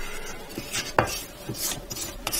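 Lemon chiffon sponge cake batter is scraped down the sides and bottom of a mixing bowl, a few soft rubbing strokes with one sharper knock against the bowl.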